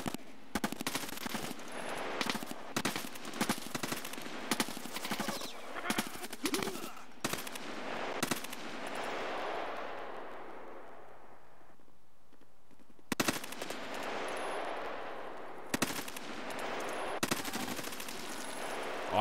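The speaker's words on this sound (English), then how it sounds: "we entered a major fucking gunfight" Gunfire in an Escape from Tarkov firefight against a scav: rapid automatic bursts and single shots crack close by, with a long fading echo tail in the middle before the shooting resumes.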